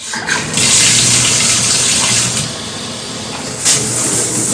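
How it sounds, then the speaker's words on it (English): A shower runs as hair is rinsed, making a loud, close, continuous hiss of spraying water that shifts slightly in tone as the stream is interrupted and resumes. "Once I hop into the shower, I rinse my hair for a few seconds before going in with my first shampoo."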